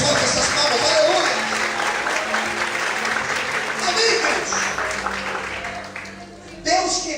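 Sustained applause from a church congregation, a full, continuous clapping that swells and then thins toward the end, with a preacher's voice talking over it.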